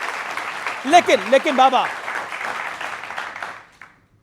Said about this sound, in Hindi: इसके लिए वाकई जोरदार तालियां आपके